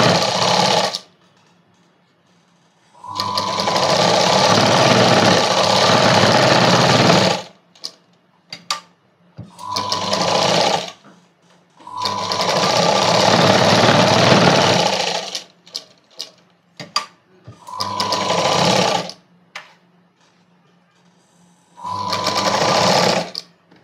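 A sewing machine stitches thread piping onto a blouse in loud, steady whirring runs of several seconds each, separated by short pauses, with no talking.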